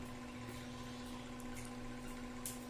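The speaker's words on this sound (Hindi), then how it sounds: "ये देखिए पानी आना स्टार्ट हो गया।" Clean water beginning to run from a home RO water purifier under repair, a steady low hum with broadband watery hiss, continuous and fairly quiet throughout with no talking.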